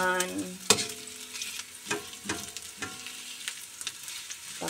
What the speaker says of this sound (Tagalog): Gisa, gisa, gisa, maingay ang sandok